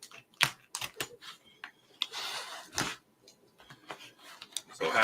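A knife slices and scrapes through packing tape on a package, making quick irregular clicks and short ripping rasps up close, fairly faint with no voices.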